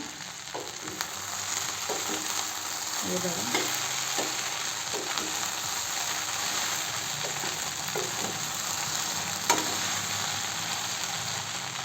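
Okra and tomato cook in a pan over low gas, a steady gentle sizzle running throughout, with occasional soft taps and scrapes of a spoon against the pan and no speech.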